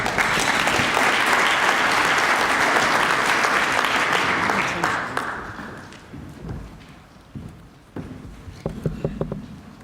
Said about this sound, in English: So you may applaud now.